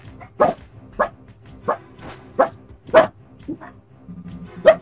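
A dog in a game barks repeatedly in short irregular bursts with a few yips, fairly close and alone.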